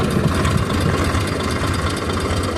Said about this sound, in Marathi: बघा हे ट्रॅक्टर चाललेलं आहे.